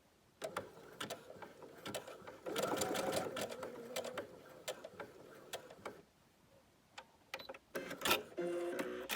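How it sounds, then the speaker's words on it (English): A sewing machine fitted with a button foot stitches buttons onto the front placket of a paper bag skirt, making short mechanical bursts of rapid needle clatter separated by brief pauses, close and clear. "I'm going to attach my buttons to the front of the skirt using the special foot that came with my machine just for attaching buttons."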